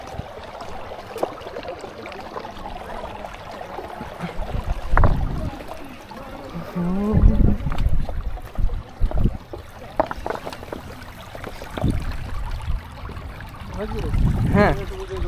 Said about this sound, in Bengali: এই পানির গর্জনটা যে এত ভালো লাগছে